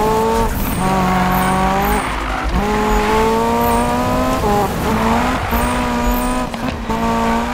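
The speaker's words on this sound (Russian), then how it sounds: "Машина! А, ребята, я не могу с ней справиться, она постоянно дрифтит." Simulated car in the Need for Speed (2015) racing game sliding through drifts, with engine tones rising and falling in repeated sweeps and squealing tires layered on top, loud and continuous with no talk.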